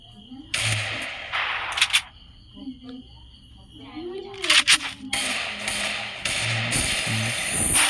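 Bursts of rapid video game gunfire crackle in several loud volleys, separated by short pauses with faint electronic tones and effects.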